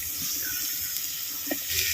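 Water streams steadily into a cooking pot as about six litres are added for Chettinad therakkal idli batter, a continuous close hiss and splash with no talking.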